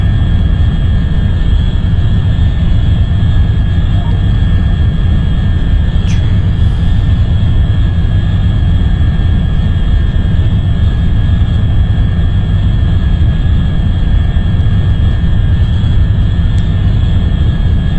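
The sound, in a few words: scramjet engines in a space flight simulator video game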